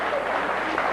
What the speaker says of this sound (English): Mr. Wilson here was just applauding you.